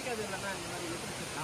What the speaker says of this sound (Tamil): இந்த இடத்த வந்து ஒரு பெரிய அருவின்னு சொல்கிறாங்க